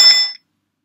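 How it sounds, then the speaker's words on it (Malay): An electromagnetic bell's hammer, driven by a soft iron armature, strikes a metal gong once, giving a bright ringing ding that fades within about half a second. "The hammer hits the gong."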